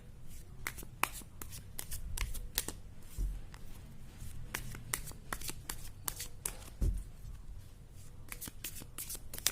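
A tarot deck is shuffled by hand in quick repeated riffles and snaps, crisp close card flicks in uneven bursts with soft taps between them.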